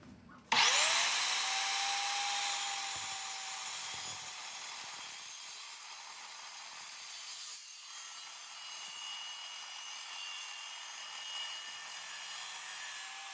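A power saw cuts through a corroded aluminum enclosure, starting abruptly and then holding a bright, steady, high-pitched whine with a slight dip partway through, close and continuous, with no talk.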